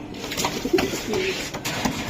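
Racing pigeons at a club sale give soft, low, repeated coos against a steady background hum, close by and with no talk.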